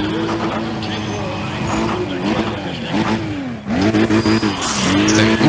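A Toyota Supra in Need for Speed: ProStreet revs loudly, its engine tone rising and falling through repeated gear sweeps, with someone talking over it.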